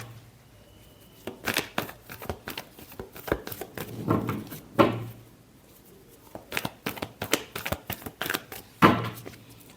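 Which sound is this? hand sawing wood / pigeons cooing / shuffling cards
shuffling cards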